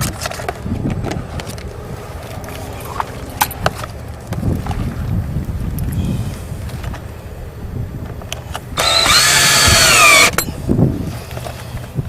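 A power drill whirs in a short high-pitched burst drilling into vinyl siding, preceded by scraping, handling noises and light knocks of work on the surface.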